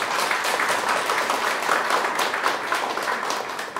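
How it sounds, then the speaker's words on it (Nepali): Congregation applauding at a Nepali home church Resurrection Day service, loud dense steady clapping with no break. "हामी सबैजना मिलेर जोरदार ताली बजाइदिउँ परमेश्वरको लागि"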